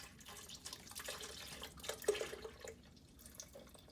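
Oat milk pours into a blender jar for a vanilla hemp smoothie, a quiet liquid stream that swells and fades in uneven bursts with splashy gurgles, close and alone without speech.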